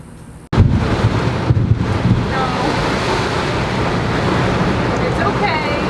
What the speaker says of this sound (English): So we got ourselves a storm front heading in.